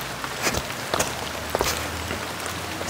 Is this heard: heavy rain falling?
yes